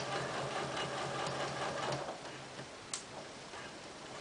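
A sewing machine runs in a short burst while back tacking a sleeve seam, its rapid ticking stitches close and faint, then it stops and a few light clicks follow.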